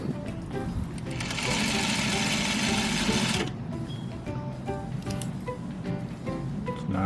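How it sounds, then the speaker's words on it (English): A sewing machine stitches a quilt block over pins, running loud and steady for several seconds before stopping, followed by quieter handling noises and rustling of fabric. "It's not a good idea to sew over pins."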